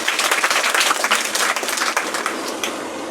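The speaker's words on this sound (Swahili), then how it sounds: "Hebu pigia Kristo makofi mazuri kama tuko pamoja." Church congregation at a worship service breaking into dense, loud applause, many hands clapping together in a steady roar that holds for the full few seconds.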